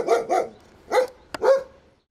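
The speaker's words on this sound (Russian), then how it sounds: "Между тем, в ограде и правда бегали собаки" Dogs behind a fence bark in short bursts, two quick barks, a pause, then two more, sounding mid-distance and clear against a quiet background.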